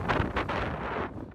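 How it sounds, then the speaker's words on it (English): Wind gusting over rough open water on the Chesapeake Bay during an open-water swim race, a steady broadband rush with gusts near the start, fading slightly toward the end. "It is a little windy for the racers"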